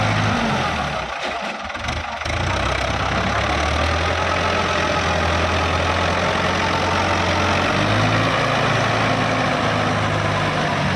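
A Ford T3 farm tractor engine idles steadily on its own, a continuous low, rough rumble at an even level with a faint knocking texture throughout and no talk.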